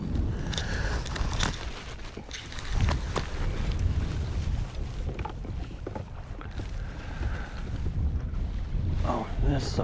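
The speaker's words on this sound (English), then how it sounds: "It's windy." Wind gusting over open water on a windy day on the California Delta, a steady rushing roar with buffeting microphone noise and small knocks from a boat, continuous and close throughout.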